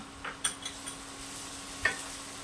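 Chopped ginger fries in a pan with a soft, steady sizzle, broken by a few light clicks of a spoon stirring, faint and close.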